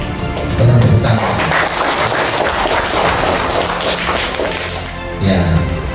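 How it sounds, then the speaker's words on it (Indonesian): Audience at a village cooperative-formation meeting in North Sulawesi applauds in a loud, sustained burst of dense clapping lasting several seconds, filling the room with steady hand claps. "Tolong tepuk tangan."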